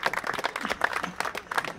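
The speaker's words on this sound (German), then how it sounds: "Ja, danke fürs Klatschen." Crowd clapping at an outdoor political rally in Braunschweig, a short burst of scattered, uneven applause from a small audience.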